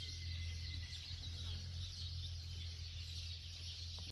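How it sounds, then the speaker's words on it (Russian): Loud, continuous high-pitched calling from a bird near hot mineral springs at Rupite, Bulgaria, steady for the whole stretch over a low background hum. "Здесь какая-то птица очень громко кричит, и Алиса думает, что это обезьяна."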